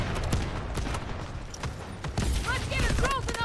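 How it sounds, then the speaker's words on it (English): Bursts of enemy gunfire from the Delta Force video game crackle in a steady mid-distance fusillade over game ambience, with a denser volley of shots near the end. "I was wondering who was shooting at me."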